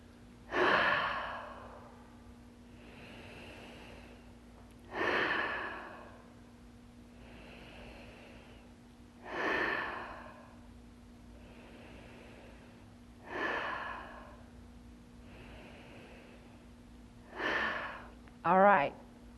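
Slow, deliberate breathing during an energy exercise with legs down and fingers positioned: five evenly spaced loud breaths about every four and a half seconds over a faint low hum, with a quick double breath at the end.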